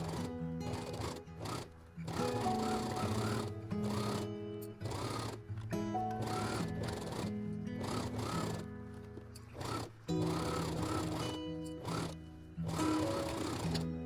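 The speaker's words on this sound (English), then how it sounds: "Sew with a 1 cm seam allowance around the edge, leaving a gap of 10 to 15 centimeters for turning later." A sewing machine stitches a 1 cm seam around the edge of a boxed tote bag, running in steady bursts with short pauses between runs, close and fairly loud with a humming motor drone and no talking.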